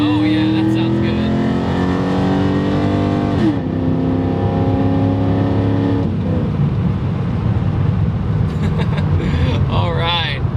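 A 2002 Camaro SS with an LS1 V8 accelerates hard, its loud engine note climbing steadily in pitch, dropping at gear shifts, then climbing again as it pulls close by.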